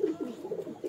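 A Teddy pigeon on a rooftop in Mirpur gives a run of soft, low, throaty coos in quick rhythmic pulses, close by and alone.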